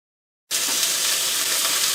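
Cubed chuck roast, about a pound, hits a hot cast iron skillet with a sudden loud sizzle that holds steady and close, frying without pause and with no voices.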